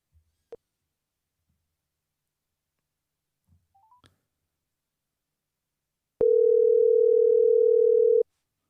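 A phone call being redialed after a dropped connection: a few faint clicks and short dialing tones, then a loud steady telephone tone holding for about two seconds before cutting off.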